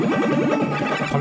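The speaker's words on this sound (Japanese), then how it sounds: "このボスのね、この BGM 好きなんですよね。" Boss battle music from the NES-style game Super Bros Kung Fu Mari, a short burst of busy, warbling chiptune tones with rapid pitch sweeps, loud and continuous with no voice.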